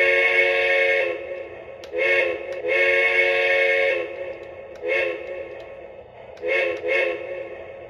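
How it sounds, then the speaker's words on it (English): A Lionel LionChief toy train whistle sounds in several blasts, one long steady tone then shorter two-note toots, loud and close, with no talking. "starting with the whistle, and that's activated by pressing the whistle button on the LionChief remote"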